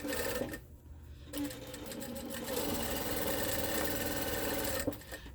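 Close, continuous whir of a sewing machine chain piecing quilt fabric strips for a Christmas Trip Around the World quilt, a steady run with a short pause near the start and no talking.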